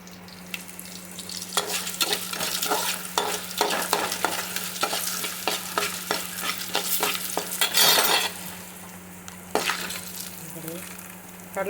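Chana dal and turmeric frying in hot oil in a pan, a steady close sizzle with repeated scraping stirs of a spoon throughout, a louder burst of sizzling near the end, no talk.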